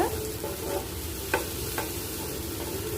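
An egg frying in a pan with masala for egg rice while being chopped and stirred, a close steady sizzle punctuated by a few sharp scraping clicks of the utensil against the pan.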